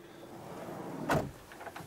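A drawer slides open in a Concorde Credo 790 MI motorhome, one faint, brief rolling swish with a small knock at the end, set against quiet room noise.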